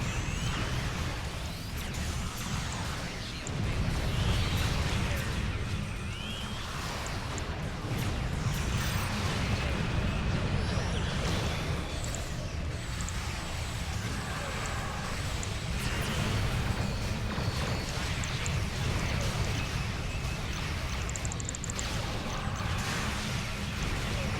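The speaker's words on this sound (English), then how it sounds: "Heavy plasma torpedoes coming in." Heavy plasma torpedoes incoming in the Star Trek Online space combat game, a dense, loud rumble of impacts, whooshes and crashing blasts that keeps going throughout without a break.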